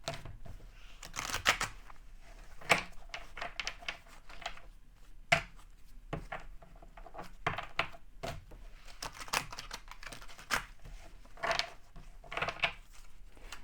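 Tarot cards are shuffled, with a quiet, uneven run of soft riffles, flicks and light clicks lasting several seconds and no voices.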